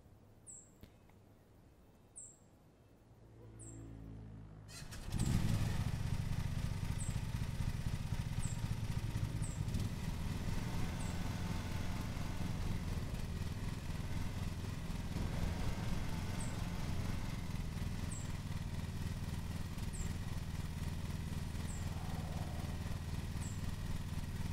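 Lawn mower engine in the Lawn Mowing Simulator video game starts up after a few seconds of quiet and then drones steadily at moderate level, with small repeated chirps in the background throughout.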